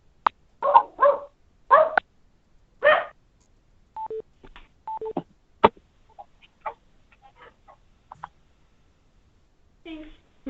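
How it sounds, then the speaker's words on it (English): A dog on a call line gives several sharp barks early on, then fainter yips and scattered short noises further into the recording. "You happen to have a puppy or a larger dog barking in the background?"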